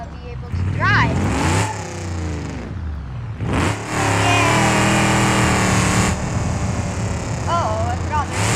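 Engine of a squatted truck in BeamNG.drive, loud and continuous with rising revs and shifting pitch as it accelerates, a voice briefly talking over it at the start.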